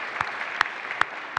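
A community summit audience claps briefly, with a few distinct sharp claps standing out over a soft background wash of applause.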